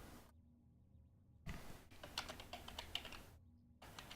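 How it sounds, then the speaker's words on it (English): Typing on a computer keyboard: a short burst of quick, close keystroke clicks between quieter gaps, faint and without talking. "I'll type it in here."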